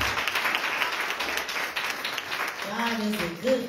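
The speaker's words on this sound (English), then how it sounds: "Let's give the Lord a hand clap of praise." A church congregation claps in praise, a sustained wash of many hands clapping with voices calling out over it.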